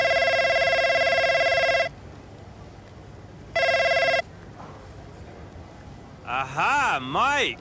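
Phone ringing in the F1 25 video game: a loud electronic trill in two bursts, nearly two seconds and then about a second long, separated by quiet, followed by a bright warbling tone sweeping up and down.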